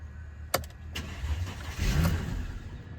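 A 2008 Mercedes W204 engine cranks with a couple of sharp clicks, then catches and starts, settling into a rough, close-up rumble. No voices are heard.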